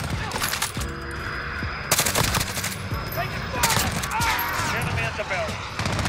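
Automatic fire from an Alabaster Grau rifle in Modern Warfare, with rapid sustained bursts and short pauses between them, loud and close under speech.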